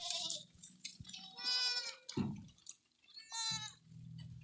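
Several goats in a pen of about 70 bleat loudly and close by during hay unloading, overlapping wavering cries one after another with brief gaps and a thump in between.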